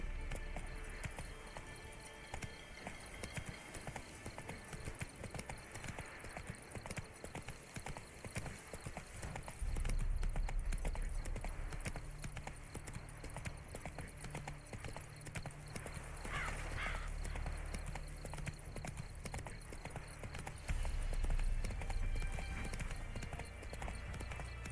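Hooves of the horse Roach in The Witcher 3 drum in a fast galloping clip-clop, steady and close, with a heavier stretch of hoofbeats partway through, no talk.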